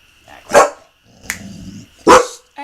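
A dog barks indoors in a few loud, sharp single barks spaced about a second and a half apart, close to the microphone, with soft background noise between them.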